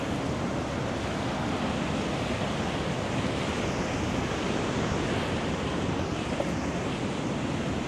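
Sea waves wash and churn steadily against the Havana seafront, a dense, continuous roar of surf mixed with wind.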